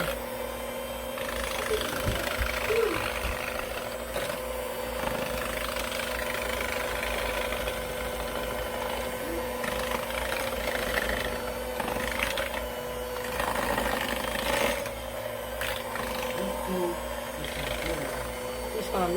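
An electric mixer beats pound cake batter with a steady, close motor whir and rattle running throughout, while voices talk at times over it.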